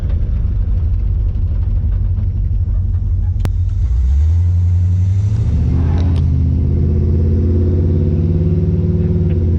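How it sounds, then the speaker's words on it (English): A classic Camaro's engine rumbles loudly and continuously, then revs up and climbs in pitch as it spins its tires on dirt, a deep, steady roar dominating throughout with no talk. "Just try and do a little burnout here on the dirt."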